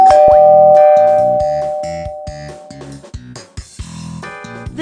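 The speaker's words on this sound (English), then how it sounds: "The doorbell rang." Doorbell chime in a children's puppet theater story, a bright two-tone ding-dong that rings clearly and fades, followed by a few light knocks and clicks.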